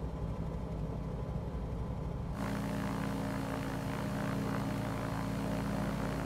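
A propeller airplane engine in the Prepar3D flight simulator drones steadily throughout, a low constant hum that grows fuller and brighter partway through, with no talking.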